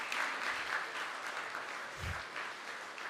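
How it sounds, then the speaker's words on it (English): A hall audience at an inauguration ceremony applauds as the lamp is lit, dense steady clapping that fills the room for a few seconds at moderate level with no talk over it. "Guys, please have a huge round of applause."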